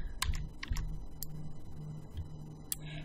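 Computer keyboard keys are tapped in a quick irregular series of sharp clicks, some close together, over a quiet background hum.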